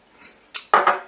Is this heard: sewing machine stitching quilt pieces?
no